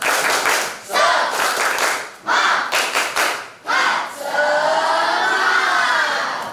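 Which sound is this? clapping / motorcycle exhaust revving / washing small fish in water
clapping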